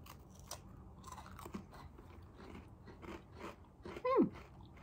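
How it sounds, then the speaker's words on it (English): Someone bites and chews a thin, crunchy shortbread-like cookie up close, a series of faint crisp crunches and soft chewing sounds that run for a few seconds. "tastes like a shortbread cookie. Nice and crunchy and thin."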